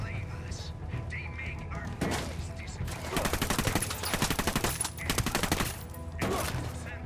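Rapid gunfire bursts in the game Ghost Recon Wildlands, a long run of sharp repeated shots in the middle flanked by single louder cracks, loud and near, with voices talking between.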